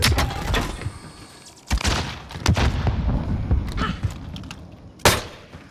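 Video game combat: gunfire and a frag grenade blast, with a few sharp loud bangs and bursts over a constant battle rumble, one heavy blast near the end, voices talking faintly underneath.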